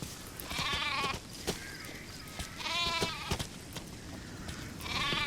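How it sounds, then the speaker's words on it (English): Sheep in the Metal Gear Solid V video game bleat in protest as they are shoved around, three loud, wavering cries spaced a couple of seconds apart over a faint game background. "I do like that there is some type of reaction programmed for sheep when you're just shoving them around, because they protest"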